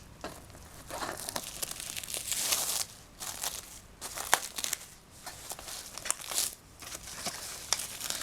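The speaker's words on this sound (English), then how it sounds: "I'm going to go ahead and just unwrap this and then open it." Food box packaging being unwrapped, crinkling and tearing in irregular bursts of papery crackle and rustle at close range, pausing briefly between handfuls, with no voices.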